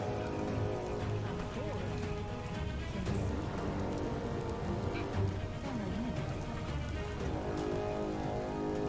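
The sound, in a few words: rain in video game Biomutant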